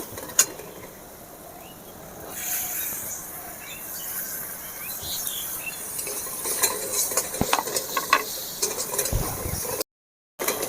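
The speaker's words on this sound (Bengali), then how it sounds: "মশলা আমার ভাজা হয়ে গিয়েছে" A spice paste of masala and chopped coriander fries and is stirred in a pan for jackfruit chop, with a steady close sizzle and repeated scraping stir strokes throughout.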